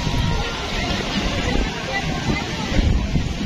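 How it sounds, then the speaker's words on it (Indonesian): Strong wind buffets the microphone outdoors at a car-free-day street event in Sumber, Cirebon, giving a steady low roaring rumble that fills the whole stretch with brief louder gusts. "Anginnya lumayan kencang"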